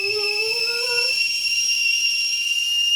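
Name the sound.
whistling kettle boiling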